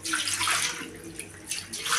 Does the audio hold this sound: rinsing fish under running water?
yes